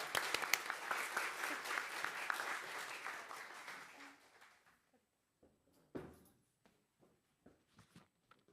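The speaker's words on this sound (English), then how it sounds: "let's have a big applause for the speakers" An audience at a climate action forum applauds the speakers, a dense burst of clapping that fades out after about four seconds, followed by scattered knocks and shuffling sounds in the hall.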